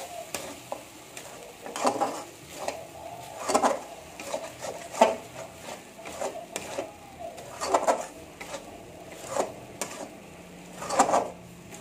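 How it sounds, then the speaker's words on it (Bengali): Masoor lentils are stir-fried in a pan, a low sizzle under regular scraping and clinking of a metal spoon against the pan, strokes coming every second or so, close with no talk. "ডালটা দিয়ে ভালো করে কষে নেবো।"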